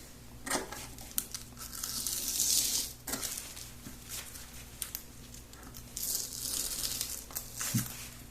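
Scissors snip and trim appliqué fabric along the edge of a kite shape, crisp close cuts and rustling cloth in uneven bursts, quiet overall.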